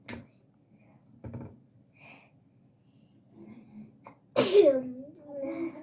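A single loud, close sneeze bursts out near the end after quiet room sounds and a few faint clicks, followed by murmuring.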